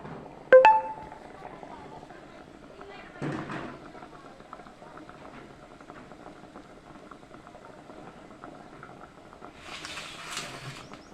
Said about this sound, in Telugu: ఊకనే ఉడుకుతాయి ఫ్రెండ్స్ ఇది మురంగడ్డ